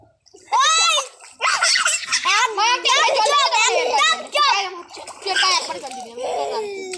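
Children splash bathwater while an adult pours more water over them, with loud, continuous shrieks and chatter from the kids and splashes running through the talk.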